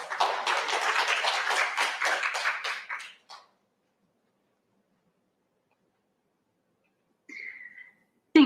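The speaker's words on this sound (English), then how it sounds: "So a big round of applause and welcome to our speakers." A few seconds of audience applause welcoming speakers at a talk, dense clapping that stops abruptly, followed by silence and a brief faint sound near the end.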